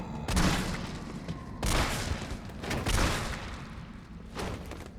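Shotgun blasts and handgun shots fired at zombies in Resident Evil 3 Remake, a few heavy separate bursts spread across the stretch over a continuous rumbling game background.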